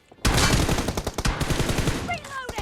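A rapid, loud burst of automatic rifle fire in PUBG Mobile cracks out close up in a dense string of shots, then tapers off into a short ringing tail.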